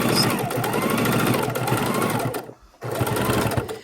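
A sewing machine stitches a thin line around the edge of a quilted potholder, whirring in a fast, continuous mechanical rhythm close by, pausing briefly near the end before starting up again.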